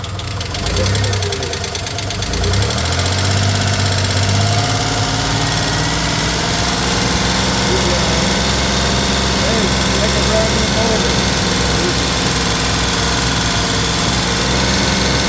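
A 1993 Dodge Caravan's Chrysler 3.0 engine runs loud and rough, a steady close-up roar with a knocking clatter that holds for the whole stretch, with possible voices faintly underneath.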